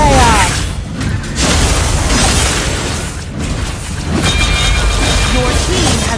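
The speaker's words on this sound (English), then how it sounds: "Your team has destroyed the tower." A tower collapses in the Lokapala mobile battle arena game, a loud booming crash and rumbling debris with mechanical clatter layered over busy game effects, rising and falling across several seconds.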